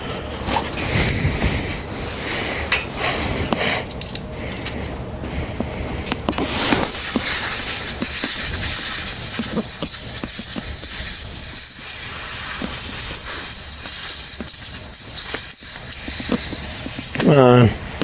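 Air hisses steadily out of a Harley Sportster motorcycle tire with the valve core removed, a loud continuous rush that starts about a third of the way in and runs to the end, with some talk and handling noise before it.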